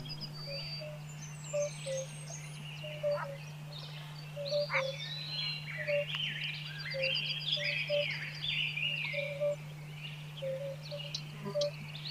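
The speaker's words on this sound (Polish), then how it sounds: "słychać tu niezwykły koncert żab i skrytych przed ludzkim okiem kumaków nizinnych" A chorus of frogs and European fire-bellied toads calls continuously at a pond, with repeated soft, low mellow notes from the toads and chirpy croaks layered over a steady low hum.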